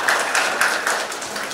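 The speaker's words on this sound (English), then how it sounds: "A big round of applause, ladies and gentlemen." An audience applauds at an evening event honouring a doctor, a dense, steady wash of many hands clapping close and loud, with no talk over it.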